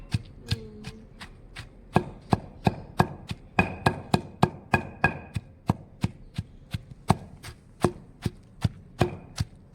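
Chutney being pounded in a stone mortar with a neem wood pestle outdoors, a steady run of sharp, close knocks repeating about two or three times a second, loud and crisp with no voices over them.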